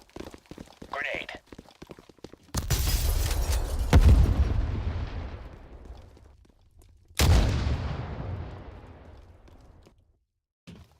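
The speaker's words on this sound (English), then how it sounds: "Grenade." Two heavy grenade blasts in a video game, the first big boom followed by a long rumbling decay, a second sharp explosion a few seconds later, with faint clicks and a brief voice beforehand.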